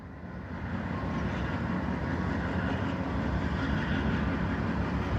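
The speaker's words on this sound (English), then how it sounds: "we got a freight train. We got a Norfolk Southern coming across that bridge" A Norfolk Southern freight train crosses a bridge along the Northeast Corridor, a steady heavy low rumble and rolling drone that builds slightly and then holds, fairly close, with no voices.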